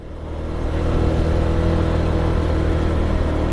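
A motorcycle climbs a steep uphill road toward Sitio Banoy, its engine a loud, close, steady drone that swells over the first second and then holds even, with no voices.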